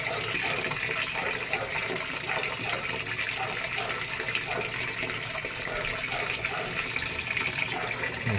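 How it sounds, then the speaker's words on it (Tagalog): A Sharp automatic washing machine, under repair for a water-level sensing fault, refills with water in a steady, continuous rushing stream that holds at an even level throughout, with no talk over it. "karga siya ng tubig ulit"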